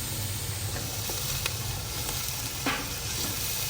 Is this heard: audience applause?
no